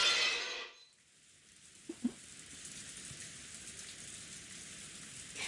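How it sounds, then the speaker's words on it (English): Steady, endless rain falls in a visual novel game's golden land, a continuous soft hiss close around the listener, with a couple of faint drip-like knocks early on. "In the Golden Land, the endless rain continued to fall."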